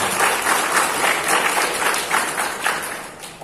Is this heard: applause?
yes